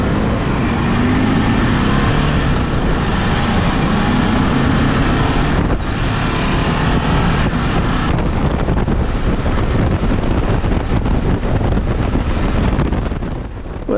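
A Ducati DesertX motorcycle being ridden at dawn, its engine drone steady and loud beneath heavy wind rush across the microphone, continuous with no talking.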